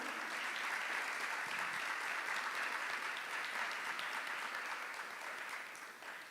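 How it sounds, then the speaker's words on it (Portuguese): A seated audience at a literary panel gives a round of applause, a steady, distant-sounding wash of many hands that stays even and fades slightly toward the end. "Uma salva de palmas, então, para a companheira que fez a passagem dela."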